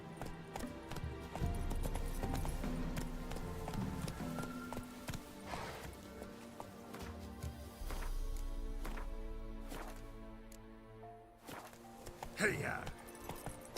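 A horse named Roach gallops in The Witcher 3, its hooves clip-clopping in a steady rhythm beneath intermittent talking, with a rider's shout and a brief whinny near the end.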